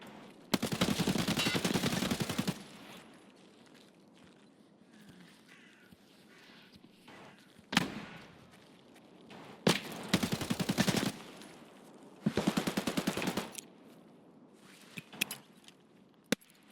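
Distant automatic gunfire rattles in several bursts across the map in Escape from Tarkov, faint to moderate, separated by quieter stretches of ambient noise, with a few sharper single cracks.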